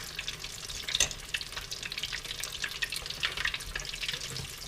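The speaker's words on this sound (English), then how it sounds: "This is referred to as deep frying versus shallow frying." Continuous crackling sizzle of mac and cheese deep frying in hot oil, with dense popping bubbles at a steady moderate level and no voices.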